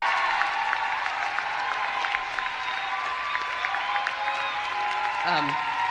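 A protest crowd shouting and roaring continuously to drown out a speaker, loud, dense and sustained throughout, with a brief rising whistle-like cry near the end.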